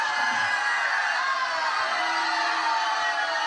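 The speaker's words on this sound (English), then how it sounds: "Crowd is very hostile today" Hostile crowd at an interview, a sustained wall of shouting, whooping and booing, loud and continuous without breaks, no individual speech standing out.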